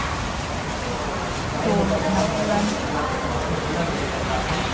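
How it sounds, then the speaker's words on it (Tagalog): Heavy rain suddenly pouring down, a steady dense hiss of downpour filling the whole clip, growing slightly louder midway, with a faint voice briefly audible beneath it. "Bigla na lang lumakas yung ulan, buhos na ng ulan."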